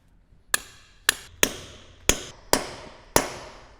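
Six sharp, ringing hammer blows drive anchor bolts into freshly poured, uncured concrete for a garage 2-post lift, each strike close and loud with a short metallic decay, spaced about half a second apart.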